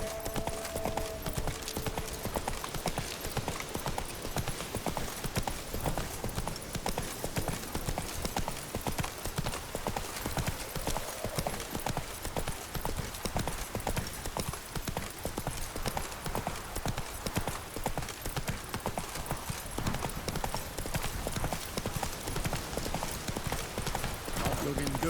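In The Witcher 3, the horse Roach gallops with a rapid, relentless drumming of hooves throughout, loud and close, with a voice speaking briefly over the hoofbeats.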